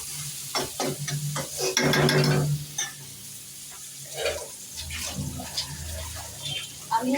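Fried pointed gourd stirred in hot oil in a pan: scraping stirs and bursts of sizzling come in uneven strokes, close and moderately loud, with no voice.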